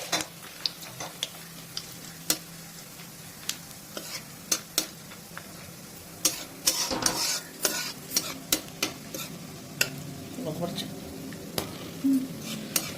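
Whole garam masala spices sizzle in a pan of melted sugar for Bengali cauliflower roast, a steady crackling hiss broken by frequent sharp clicks and scrapes of stirring, close and fairly quiet.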